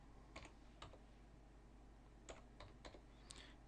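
Keys on a computer keyboard are tapped in short, scattered bursts while a command is entered during an Exchange 2010 server install. The clicks are quiet and close, separated by brief pauses.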